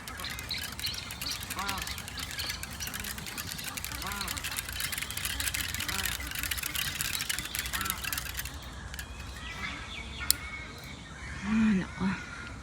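Large birds perched high in a tree call and chirp at a distance over steady outdoor background noise and a passing engine, while people talk nearby.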